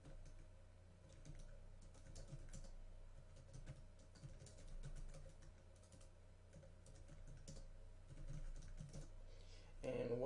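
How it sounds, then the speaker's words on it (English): Steady typing on a computer keyboard while entering values into a Javamail JSP email form, a continuous run of light key clicks at moderate level throughout, with faint background hum. "I'm going to go ahead and type in values."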